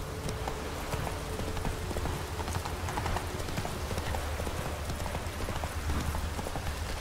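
Horse hooves clip-clop steadily in The Witcher 3, a continuous trotting rhythm close and clear over a low ambient game background, with no talk.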